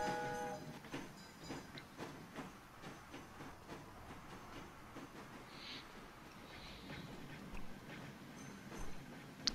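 A train rolls on in the railway game Train Fever with a steady low rumble and clatter of wagons, joined by a brief high whistle-like tone, all fairly faint.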